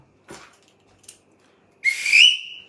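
After a couple of faint knocks, a sharp whistle is blown once, loud and close, trilling for under a second, at the start of a bout on a tatami mat.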